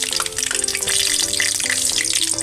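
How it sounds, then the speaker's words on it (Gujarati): Mustard seeds and cumin sizzle steadily in hot oil as a tempering for urad dal, a dense, continuous close frying hiss over a faint sustained tonal hum. "તો હવે આપણે એમાં રાઈ નાખશું, ચમચી જીરું નાખશું"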